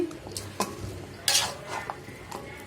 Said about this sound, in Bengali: আলু দিয়ে দিলাম এখন আলু দিয়ে কষাবো কষাচ্ছি